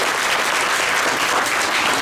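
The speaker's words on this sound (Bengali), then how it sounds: "জোরে হাততালি হয়ে যায়।" Loud, dense applause from the audience at a Durga Puja drama performance fills the whole clip, many hands clapping continuously with no breaks.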